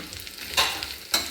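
Grated coconut fries in ghee in a pan with a soft, close sizzle, broken by two quick scraping stir strokes.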